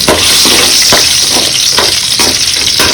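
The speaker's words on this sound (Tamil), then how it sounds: "போட்டு நல்லா வதக்கி கொடுத்துட்டோம்" Curry leaves and dried red chillies sauté in hot oil with a loud, dense sizzle, punctuated by several rhythmic stirring scrapes about every half second, close up with no voices.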